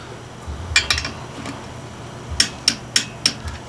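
A torque wrench clicks as pressure plate bolts on a Cobra kit car clutch are checked to 18 foot-pounds, with sharp metallic clicks coming in two short evenly spaced bursts, close and clear.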